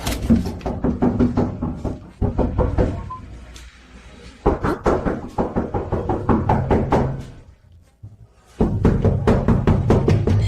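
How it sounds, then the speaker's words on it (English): Rapid bursts of loud knocking on a door, several fast volleys of sharp close raps separated by brief quiet pauses, with no voices. "someone keeps knocking"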